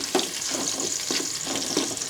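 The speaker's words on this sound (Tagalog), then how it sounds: "Nagigisa na po tayo." Chopped onion sautés in oil in a pan for a pork blood stew, a constant close sizzle broken by regular scraping stir strokes roughly every half second, with no voices.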